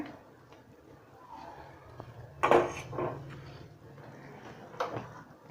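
A tadka pan set down on a gas stove while cooking chole masala, giving a single clattering metal knock of moderate loudness, followed by a couple of lighter clinks in a quiet kitchen.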